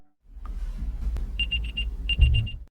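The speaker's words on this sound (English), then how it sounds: "the tracking device, which emits a tiny beep when she taps the button on the app" Two quick series of short, high electronic beeps from a tracking device, four or five in each burst, over a dull rumbling background with a brief pause between them.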